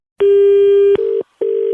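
A telephone dial tone sounds after a call is hung up. A steady, loud tone runs for most of a second, then shifts pitch and breaks into two shorter repeating beeps separated by a brief silence.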